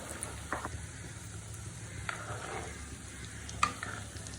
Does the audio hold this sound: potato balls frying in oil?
yes